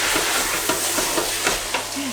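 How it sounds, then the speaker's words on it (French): Onions and beef in a large pot get mixed with a big spoon over a steady frying hiss, with soft scrapes and knocks at a roughly regular pace and no voices. "Alors oignons et le bœuf dans la cuve et on va mélanger tout ça"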